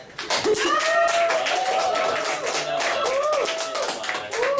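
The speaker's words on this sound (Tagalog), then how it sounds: "Palakpak. po mga audience natin para kay James." An audience claps continuously and densely at a live celebrity fan chat event, with raised voices and cheering mixed into the applause throughout.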